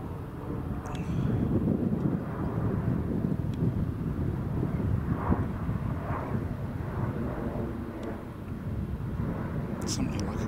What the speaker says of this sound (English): Big business jet flying over on its way to Luton, I think.